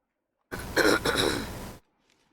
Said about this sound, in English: I apologize if I'm clearing my throat a lot.